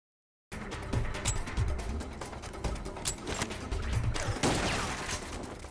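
Rapid, dense shotgun blasts in Lara Croft and the Guardian of Light, with close, loud repeated booms and clattering impacts layered over each other without pause.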